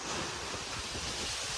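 Warm wind blowing outdoors makes a loud, steady, continuous rushing roar with no voices heard.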